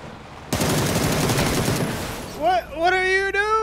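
Gunfire in PUBG from Beryl and Dragunov rifles: a loud, dense burst of rapid shots begins abruptly and runs for over a second, followed by a voice speaking.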